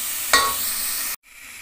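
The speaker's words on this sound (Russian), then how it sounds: "Как потушится немного морковка, добавляем лук и продолжаем пассироваться, постоянно помешивая" Carrots and onions sizzling loudly as they fry in a pan for Turkish-style chicken soup, a dense close hiss with a sharp stir clatter near the start, then cutting out abruptly before resuming quieter.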